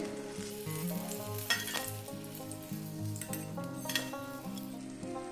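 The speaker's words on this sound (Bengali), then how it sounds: "এইভাবে মুচমুচে করে ভেজে নিতে হবে" Potato spring rolls deep-fry in hot oil, giving a dense, steady sizzle that runs throughout at close range, with a few brief louder crackles and a steady tonal layer underneath.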